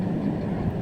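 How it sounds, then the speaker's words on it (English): A train rumbles past with a steady low, dense roar that stays loud and even throughout, with no talk over it. "There's a train."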